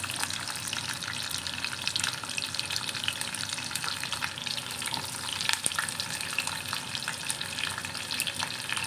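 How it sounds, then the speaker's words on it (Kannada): Onion and garlic frying in oil in a pan for a Kannada paddu and tomato chutney recipe, a steady dense sizzle with occasional crackles and a few stirring knocks, continuous and close with no talk. "ಇದು ಫ್ರೈ ಆಗ್ತಾ ಇರುತ್ತೆ ಈ ಕಡೆ"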